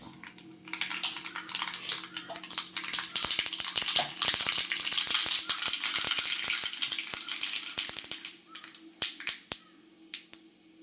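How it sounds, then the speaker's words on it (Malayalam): Mustard seeds spluttering in hot oil in a pan while tempering a sardine stir-fry, a rapid crackle of many sharp pops that builds to a dense burst and then thins into scattered snaps, heard close with no talk. "എണ്ണ ചൂടായി വരുമ്പോൾ കടുക് പൊട്ടിക്കുക."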